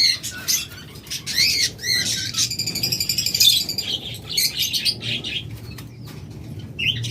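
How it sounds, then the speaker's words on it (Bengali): Pet lovebirds, budgerigars and Java sparrows chatter in a dense stream of high chirps and tweets, close and fairly loud, with bursts of wing flapping and cage rustling throughout. "আমাদের কাছে সকল মিটেশনের পাখি রয়েছে"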